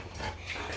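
A bird dog gives a brief, soft whimper nearby, a faint whine that lasts under a second with no one speaking.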